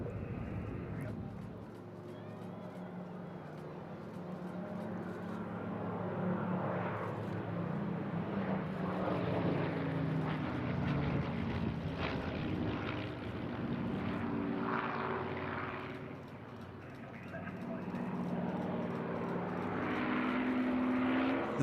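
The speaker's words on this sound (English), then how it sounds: "The Mark 11, a rare survivor of this mark of Spitfire, with just 2 remaining in airworthy condition" A Spitfire Mark 11 flies at an airshow, its propeller engine a steady, distant drone that rises and falls across the pass, with a commentator speaking over it.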